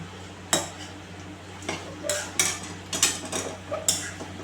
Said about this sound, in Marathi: फिरवून घेते सगळं तेल मसाले डाळ वगैरे सगळे सगळं एकत्र छान मिसळलं पाहिजे